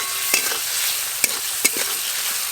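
Spices for ghugni fry in hot oil with a continuous close sizzle, broken by a few sharp clicks and scrapes of a utensil against the pan.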